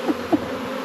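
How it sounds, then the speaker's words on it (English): Honeybees buzzing around a hive frame held up during a beekeeping hive inspection, a faint steady hum with a couple of brief louder passes close by. "Oh my gosh, look at all the bees on here."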